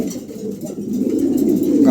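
New pigeons in moult coo in a low, throaty rolling murmur close by, swelling slightly toward the end.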